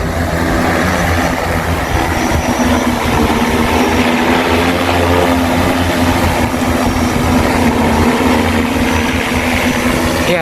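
An agricultural spraying drone flies over a rice paddy during a pest-control demonstration in Bungaejaya village, giving a loud, steady mechanical drone with constant whining tones that never pauses across the whole stretch.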